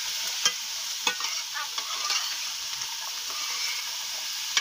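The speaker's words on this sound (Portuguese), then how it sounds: "Aí eu vou pôr já o quiabo já, né? Também não quero deixar a cebola queimar. Aí deixa aqui, ó, dá uma refogadinha nele." Okra with onion and garlic sautéing in a pan over a wood fire, a steady soft sizzle with occasional stirring scrapes and clicks, close and continuous with no talking.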